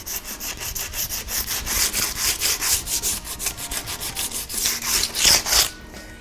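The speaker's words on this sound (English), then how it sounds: "I'm going to give it a sand just to give it a little bit of a key" Rhythmic back-and-forth scratching of sandpaper on a varnished wooden chair, steady strokes repeating quickly and close by, with no talking.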